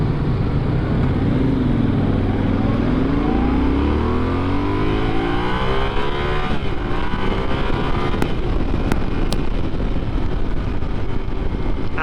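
A 2022 Yamaha Tenere 700 motorcycle engine drones steadily while riding, revving and shifting pitch beneath constant loud wind buffeting, with no speech.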